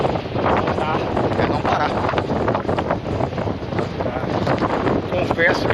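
Strong wind on the beach between Praia do Cassino and Chuí buffets the microphone in continuous gusty roars, with someone speaking briefly underneath.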